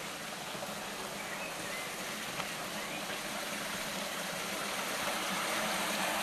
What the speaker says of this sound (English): So it's a spring, classical karstic spring.